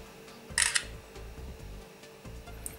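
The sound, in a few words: LG Optimus G phone camera shutter, time catch shot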